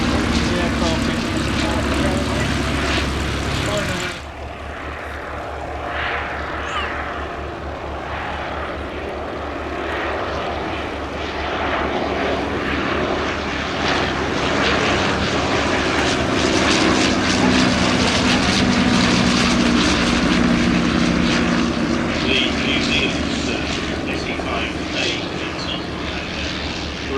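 A WWI Royal Aircraft Factory SE5a biplane, running a 200 horsepower Rolls-Royce replacement engine fitted in 1975, flies past with a loud, steady propeller drone that shifts in pitch over nearly half a minute, and a voice talks over it.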